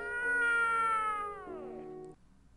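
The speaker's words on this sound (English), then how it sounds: "A cat is in my house?" A cat meows in the game Gaokao.Love.100Days. There is a single drawn-out, whining meow, clear and close, that falls in pitch as it fades and ends abruptly.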